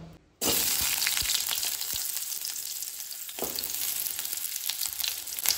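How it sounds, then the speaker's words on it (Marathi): Chopped onion drops into about two spoons of hot oil for a Goan wild mushroom dish. After a brief quiet moment, a loud, steady sizzle bursts in and continues close and unbroken, with occasional stirring scrapes and no talk. "आनी तेल न्ही बरें तापलें की ना हितून आतां आमी कांदो घालून घेवया."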